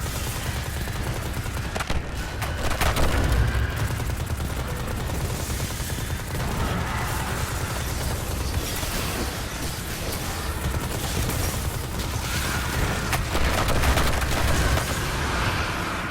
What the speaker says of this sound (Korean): 어 연쇄 폭발을 하는구나